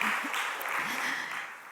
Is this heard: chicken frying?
no